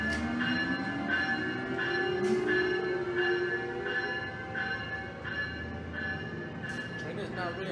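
A passenger train rumbles past at Iselin, its steady roar joined by a faint ringing bell and brief higher squeals, with voices talking faintly under the noise.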